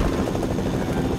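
Helicopter in the video game Fortnite, a steady droning rotor sound heard loud and close throughout a brief moment, with no speech.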